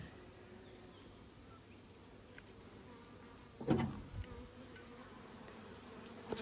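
Honey bees buzz around hive frames pulled from a swarm trap during a beekeeper's inspection, a steady low drone with a brief louder burst partway through.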